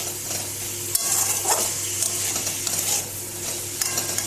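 Steady sizzling of onion, carrot, capsicum and broccoli frying in a pan, with scraping stirs and occasional clinks of a utensil against the pan, no talking.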